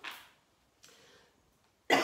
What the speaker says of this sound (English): Hold on, I'm going to cough.